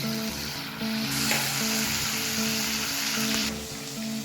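Potatoes fry in a pan as a paste of ginger, cumin and dry red chili goes in, a close, continuous sizzle with stirring scrapes and a brief surge of crackle partway through; a faint tonal hum sits underneath.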